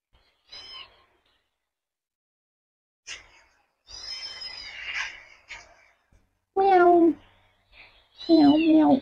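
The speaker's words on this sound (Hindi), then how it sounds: "उसके भाई बहन जो उसके अगल बगल के अंदर बिल्ली के बच्चे ना, वो कर रहे म्याऊं म्याऊं" Kittens beside a cat stuck in a pipe mew in short, scattered cries, ending with two louder, clearer wails, separated by silent gaps.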